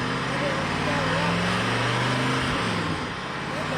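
A moving vehicle's engine in the Ice Scream video game drones steadily at close range, a loud, continuous low hum that shifts pitch slightly, with a voice talking over it.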